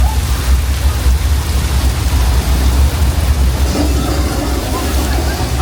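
Simulated flash-flood rain poured from sprinklers above a Universal Studios backlot tram, a loud, continuous hiss of falling water over a deep rumble, steady and close for several seconds.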